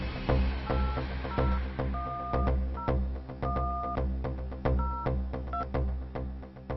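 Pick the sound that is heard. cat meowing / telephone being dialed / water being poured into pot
telephone being dialed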